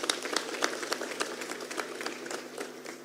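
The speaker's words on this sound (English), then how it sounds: "I think we should give Honorable Rebecca Miano another round of applause" A round of applause at an African Union private sector forum, a steady patter of many hands clapping in a large hall, moderately loud and fairly even before tapering slightly.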